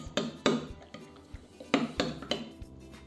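A spoon stirs heaped spoonfuls of thick strained yogurt in a bowl for a celery walnut salad, giving a quick run of sharp clinks and knocks against the bowl, close and alone.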